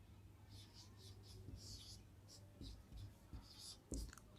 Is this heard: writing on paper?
yes